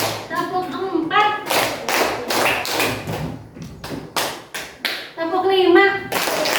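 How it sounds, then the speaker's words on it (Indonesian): A classroom of children clapping together in a teacher-led number clapping game: bursts of group claps in short counted sets, alternating with an adult woman's instructions and children's voices. "Kalau ibu bilang tepuk 1, kalian tepuk 1 kali."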